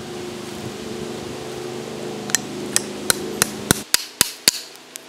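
A hammer knocking a silver plate vein out of its surrounding host rock, with a series of sharp, close metallic strikes at a steady pace over a low background hum that drops away near the end.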